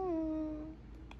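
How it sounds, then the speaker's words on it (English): A kitten gives a single faint, thin meow that slides downward and fades, with a couple of soft clicks after it in a quiet room. "It's a kitten."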